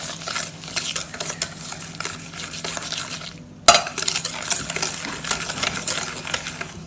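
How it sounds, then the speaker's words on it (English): Cupcake batter of sugar and olive oil is mixed by hand without a mixer, producing steady scraping and swishing strokes in a bowl. A brief pause and a sharp clack come midway before the stirring resumes. "And then mixing up."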